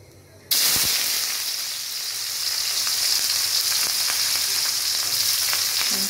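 Hot oil poured into a pan for desi chicken and small fish bursts into a loud, steady sizzle after a brief quiet start, hissing continuously with faint scraping underneath.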